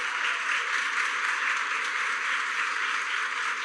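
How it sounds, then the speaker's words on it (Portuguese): A church conference congregation applauds in a steady, sustained wash of clapping that fills the room evenly from start to finish. "queria que vocês aplaudissem ao Senhor pela vida dele."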